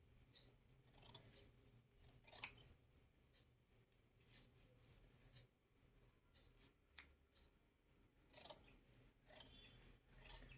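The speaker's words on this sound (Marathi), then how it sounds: "सगळ्यात आधी हा गोल आकार कापून घ्यायचा बाहीचा." Scissors snip through fabric, cutting the round shape of a full sleeve for a simple Punjabi-style top. The cuts come as faint, close, intermittent snips and soft rustles in a quiet room, with no voice.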